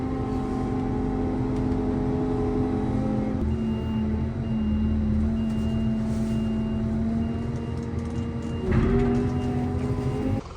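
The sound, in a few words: truck lifting a front box off a trailer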